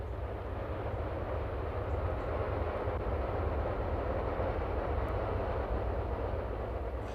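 A coal train rolls slowly through the mechanised loading terminal at Ravenstruther on the West Coast Main Line near Carstairs in Scotland, giving off a continuous low rumble and hiss that stays even and steady throughout, with no voices.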